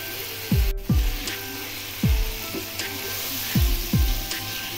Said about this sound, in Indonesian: Masak terong hingga merata dengan bumbunya.